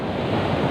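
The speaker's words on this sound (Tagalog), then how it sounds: "lakas po nung alon" Strong ocean surf at Paratong Beach, La Union, a steady broadband wash of breaking waves with wind buffeting the microphone, loud and continuous throughout.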